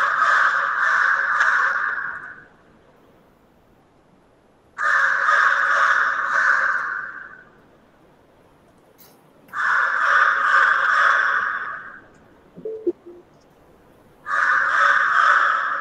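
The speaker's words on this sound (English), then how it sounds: "A lot of crows making noise." Crows outdoors cawing in four separate bursts of rapid, harsh repeated calls, each lasting about two seconds with quiet gaps between, moderately loud and fairly close.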